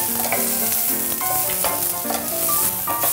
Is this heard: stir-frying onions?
yes